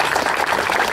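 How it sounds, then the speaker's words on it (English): Applause from the audience at a school grand opening and dedication ceremony, a dense steady clapping that fills the whole second with no voices over it. "Again, Norma, we offer a round of applause to you"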